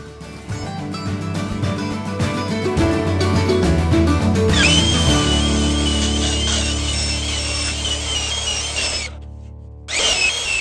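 A power sander works over a glued plywood joint, giving a loud, steady, continuous whir that holds for about ten seconds and briefly cuts out near the end before resuming. No one speaks.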